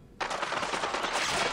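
A sudden, sustained burst of rapid gunfire in the video game Splinter Cell: Spies vs Mercs, starting abruptly and continuing steadily at a moderate distance.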